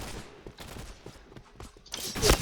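Rapid gunfire bursts from an MPT-76 rifle in the Point Blank shooter game, a quick run of sharp close shots ending in a louder blast.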